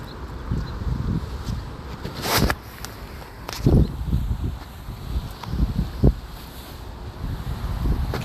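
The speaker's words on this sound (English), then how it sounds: "It's windy." Wind gusts buffet a microphone outdoors on a cool June day in Canada, with irregular rumbling bursts and rustling rising and falling throughout, no speech.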